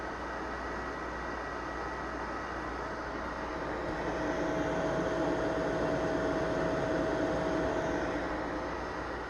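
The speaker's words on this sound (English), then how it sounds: "just like all fat PS3s that are this old, it sounds like a literal jet engine" Cooling fan of an old PS3 Fat console roars loud and steady like a jet engine, a broad rushing whoosh with a faint whine, growing slightly louder partway through with no talking.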